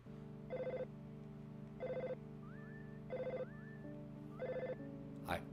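In the SNES game EarthBound, a telephone rings with four evenly spaced electronic rings over steady background music. Brief chirpy game tones fall between the rings, and a short sharp blip comes at the end.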